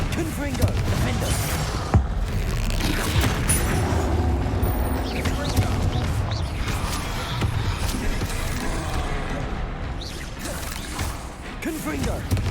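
Spell blasts and explosions clash in Hogwarts Legacy combat, with repeated thuds, whooshes and crashes that are loud and steady throughout, while a voice calls out over the action.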